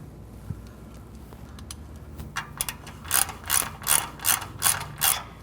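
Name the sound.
ratchet tightening catalytic converter bolts on 2000 Honda Civic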